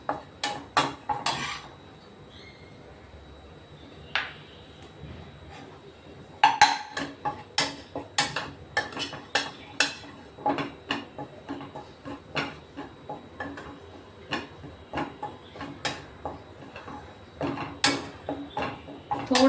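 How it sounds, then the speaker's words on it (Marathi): Flour dry-roasting in a pan is stirred with a utensil, giving a long run of crisp metallic scrapes and clinks, close and distinct, that start sparse and then settle into a steady, fairly quick rhythm. "थोडासा रंग बदलेपर्यंत आपण पीठ भाजून घेणार आहे"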